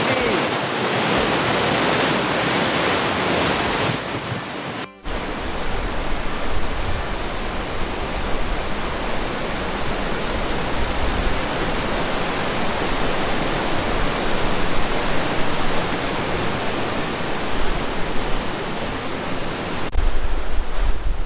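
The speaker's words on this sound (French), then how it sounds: "The water is really noisy." Waterfall at Lake Superior Provincial Park, a loud, constant roar of rushing water that fills the whole stretch with no pause.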